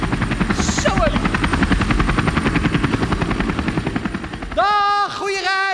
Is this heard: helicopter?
yes